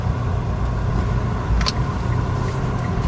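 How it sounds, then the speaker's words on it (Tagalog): Steady road traffic in San Pablo, a continuous low rumble of car engines passing nearby with no voices, and a brief brighter whoosh of a vehicle about halfway through. "Grabe, sobrang traffic dito sa San Pablo."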